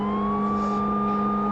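American police car siren from a PlayStation chase game, a loud steady wailing tone held throughout over engine drone, with no talking.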